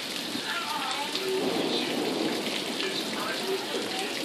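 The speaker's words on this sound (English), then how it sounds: "And it is just drenching rain." Drenching downpour in late May on the outskirts of San Antonio, Texas: a constant loud wash of rain striking nearby surfaces, even and unbroken, with no voices.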